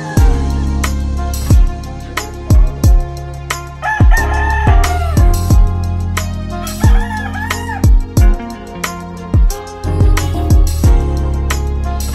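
Loud, rhythmic music with a thumping beat, mixed with a rooster's crowing and the clucking of chickens.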